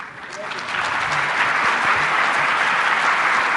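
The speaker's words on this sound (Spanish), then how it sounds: "Se merece un aplauso más fuerte." Swelling applause from an audience honoring a doctor at a formal gathering, building over the first moment into a steady, sustained wash of clapping.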